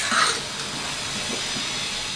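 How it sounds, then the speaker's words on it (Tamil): Water boiling in a cooking pot on a stove while making mushroom biryani gives a steady, close, hissing bubbling rush that continues evenly throughout. "இப்போ பாத்திரத்தில் தண்ணி கொதிச்சிட்ருக்கு."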